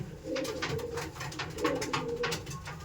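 Madrasi pigeons sitting on eggs in a loft coo softly and repeatedly nearby, low rolling calls that overlap in a steady murmur.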